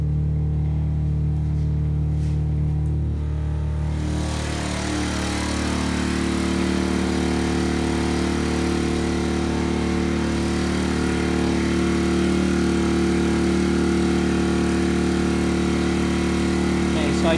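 A portable generator runs inside a homemade hush box with a steady engine drone, muffled at first, then suddenly louder and brighter as the cabinet is opened, holding a loud, constant hum afterward.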